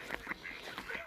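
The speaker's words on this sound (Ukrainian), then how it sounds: "Нічого собі скільки качок." Several ducks on a lake in Ireland quack faintly in quick succession, a short scattered series of nasal calls heard from a little distance.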